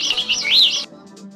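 A bird chirps as it flies away, giving a quick, bright series of rising and falling tweets up close, which then stop abruptly and leave a faint, quiet tail.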